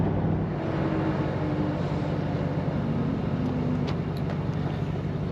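Nissan Y62 Patrol fitted with a DASH cat-back exhaust cruising at 100 km/h, a steady low rumble and burble from inside the cabin, constant and even throughout, with no talk.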